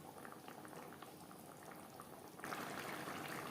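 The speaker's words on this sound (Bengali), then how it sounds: "গ্রেভির সাথে মাছ আরও 4-5 মিনিট রান্না করব।" A Latha fish curry simmers in its gravy with a steady close bubbling and popping, swelling a little louder partway through.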